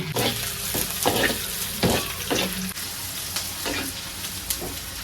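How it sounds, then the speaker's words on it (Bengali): Chopped onions fry in hot oil in a wok, a loud continuous sizzle broken by several scraping stirs of a spatula, with no voices. "কড়াইতে তেল দিয়ে দিলাম আগে পেঁয়াজ কুচি দিয়ে দিলাম"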